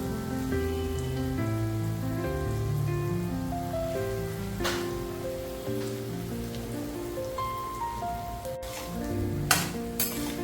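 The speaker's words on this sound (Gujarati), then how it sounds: "હવે આપણું આ શક્કરિયા, જે મેશ કરેલા શક્કરિયા છે, આપણે કઢાઈમાં એડ કરી લેશું." Mashed sweet potato hits hot ghee in a kadai with a soft, continuous sizzle and crackle that sits beneath melodic background music, with a couple of sharper clicks near the end.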